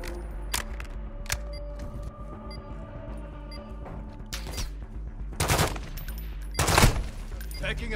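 Automatic weapon fire in Call of Duty Warzone 2.0, with several bursts of rapid shots, some close and loud, others farther off, over a steady background of game ambience.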